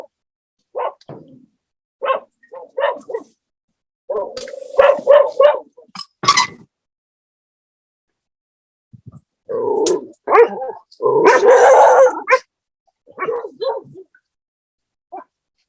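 Several dogs bark in uneven bursts, with some growl-like rumbles mixed in. The calls sound close and fairly loud, and there are silent gaps between the clusters.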